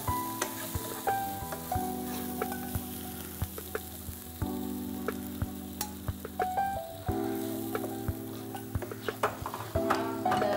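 Tomatoes fry in hot oil for Chettinad chicken, a quiet constant sizzle under a low steady hum, with regular sharp ticks and scrapes of a stirring spoon against the pan, close by and without speech.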